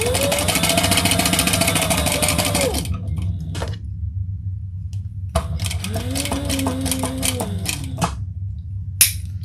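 A sewing machine bastes a seam about an eighth of an inch wide with two separate steady runs of whirring motor and needle, split by a short quiet pause with small handling clicks.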